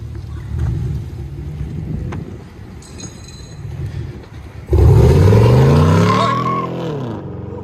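A 2014 Chevy Camaro SS with a 6.2L V8 and true dual Flowmaster Outlaw exhausts with resonators idles with a deep, steady rumble, then fires into a loud, sudden rev that climbs and falls back over several seconds.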